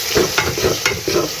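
Chopped onion sizzling in hot ghee in a pan for an egg and potato curry, a steady close frying hiss broken by a few stirring scrapes roughly every third of a second.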